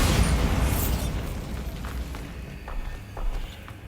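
A Bombarda spell explosion in the video game Hogwarts Legacy: a loud, booming burst right at the start that rolls off and fades, followed by a few faint thuds and footfalls.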